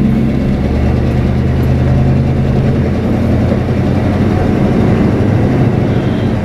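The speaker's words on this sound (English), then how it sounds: "I got that stupid exhaust leak on this thing" A vehicle engine idling with an exhaust leak, a continuous loud low rumble with steady droning tones that holds evenly throughout with no talking.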